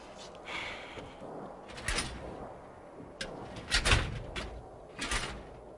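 Gray steel cabinet drawers in a small closet-like room are pulled open, several metallic scrapes and knocks rising over a dense background hiss, the loudest clatter near the middle.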